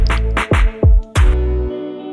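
A live electric guitar drenched in reverb, delay and chorus strikes several notes and chords in a loose rhythm, each one ringing out into a long, shimmering, spacey tail before the sound fades.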